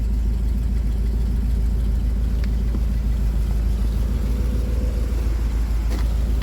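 A 1971 Chevrolet Corvette Stingray coupe with a stock-sounding engine idles steadily, a low, even rumble that holds at constant level throughout with no revving.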